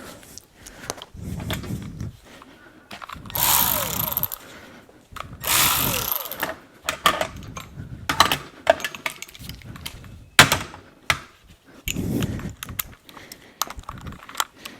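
Power tool removing four bolts from a compressor bracket on a GM OBS truck with a 6.5L diesel, in short loud bursts of whirring and ratcheting with clicks and clunks between them.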